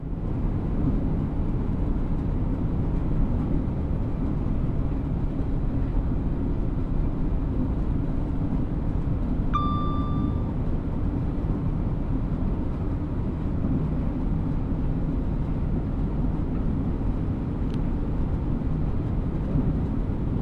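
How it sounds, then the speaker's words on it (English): An Avanti West Coast Class 805 train in Train Sim World 6 runs on the West Coast Main Line south toward London Euston, a steady low rumble and drone that holds constant throughout, with a brief faint tone partway through. "You can hear the engine or the train."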